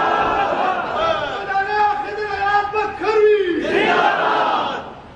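A large crowd at a religious gathering shouts slogans together in loud, sustained unison, many voices rising and falling in rough chant-like waves without pause.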